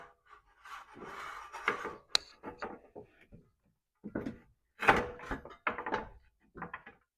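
Radiator being set into the engine bay of a 2000 Jeep Wrangler and bolted down: scattered close rubbing, knocking and scraping bursts of metal and plastic with brief pauses, no talk.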